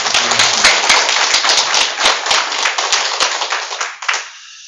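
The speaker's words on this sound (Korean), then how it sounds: "박수로 하나님께 영광을 드리겠습니다." Congregation clapping in unison during a Korean Easter church service, a loud, dense and steady burst of many hands that fades out near the end.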